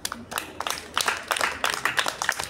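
Children break into scattered, uneven applause, with many quick overlapping hand claps rising and falling at close range over a couple of seconds.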